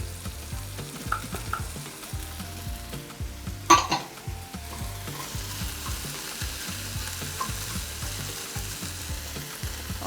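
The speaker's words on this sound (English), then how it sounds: "So we go in with the cooked veggies now for a quick toss." Cooked vegetables are tossed into Nigerian fried rice frying in a pan: a steady close sizzle, one sharp clang of the utensil early on, then continuous stirring and crackling.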